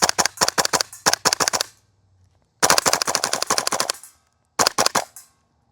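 Bursts of rapid full-auto fire from a Double Eagle DWS Lupus airsoft rifle, close and loud: three strings of sharp cracks separated by short pauses, the middle string the longest.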